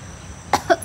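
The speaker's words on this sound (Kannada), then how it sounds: "ಕೆಮ್ಮು ಕೆಮ್ಮು" A person gives two or three short coughs on request during an audition for a Kannada television serial, the bursts quick and close after a quiet pause, with no talk.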